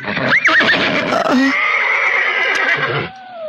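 A horse neighs loudly and close, a rising whinny followed by a long, quavering call that fades into softer snorts.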